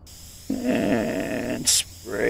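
A spray effect in the Farm Renovation video game sounds as a steady, close hiss for about a second, followed by a brief sharper burst and another hiss starting at the end.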